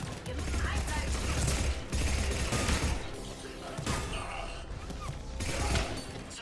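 Gunfire at a checkpoint in the Mass Effect 3 video game, a sustained clattering barrage of shots and impacts mixed with game noise and voices, loud and continuous throughout.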